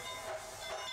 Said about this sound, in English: Ooh, steam train.